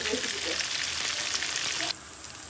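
Loitta (Bombay duck) fish frying Cox's Bazar style, a dense close hiss of sizzling oil that holds steady, then drops a little in loudness near the end, with no voices.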